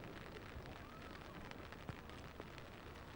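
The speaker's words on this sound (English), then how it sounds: "as it starts to rain again here" Rain falls steadily outdoors at Balmoral, a faint, even hiss of drops with a few sharper patters.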